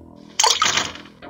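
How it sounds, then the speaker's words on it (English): Water in The Visitor video game gushes on suddenly after a quiet moment, a loud splashing rush like a tap filling a bathtub, then settles into a lower stream. "Turn on the damn water."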